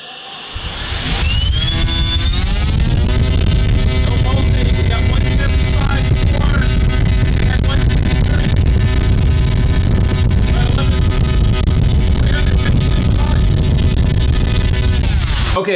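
A Detrum Power10 3715 brushless motor set to high timing spins up with a rising whine, then holds a steady high-pitched electric drone with a busy buzzing rumble beneath, running close and loud until it cuts off.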